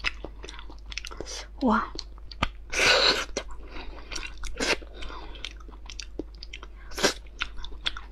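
Close, wet chewing and crunchy biting on boiled shellfish with spiky shells, in irregular bursts, with a brief exclamation and some soft speech between mouthfuls.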